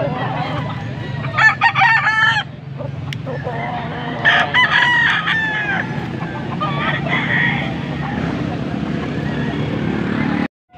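At a rooster market in Bocaue, Pampanga, several roosters crow loudly in short bursts, one after another, over a crowded, buzzing background of voices and motor noise.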